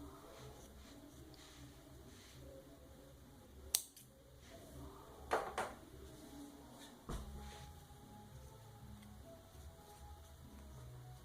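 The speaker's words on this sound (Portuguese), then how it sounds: "E aqui eu vou cortar o fio." Scissors snip through crochet yarn for a tablecloth, giving a few short, faint cuts with soft handling rustle between them in a quiet room.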